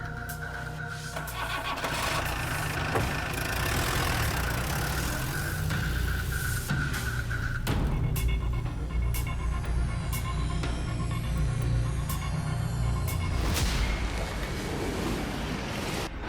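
A scooter engine idles steadily, a low, even mechanical rumble that carries on close and fairly loud throughout, with no talking.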